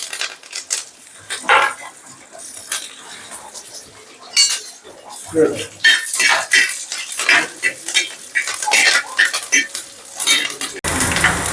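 A metal spoon scrapes and clinks against a pan in quick, uneven strokes while sautéing spices and dried chillies, with a faint sizzle of frying underneath, close by.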